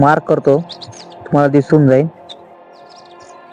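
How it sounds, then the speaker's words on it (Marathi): Someone speaks close by while small birds chirp faintly in the background, with short high tweets slipping between his phrases. "छान असा पक्ष्यांचा आवाज येतो इथे"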